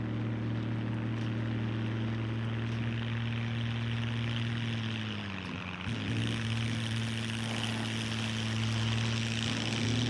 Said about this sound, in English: That airplane freaked me out.